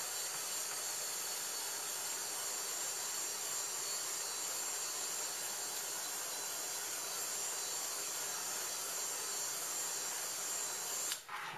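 A heat gun blows steadily on a beeswax taper, a constant loud hissing roar that holds throughout and cuts off abruptly at the very end.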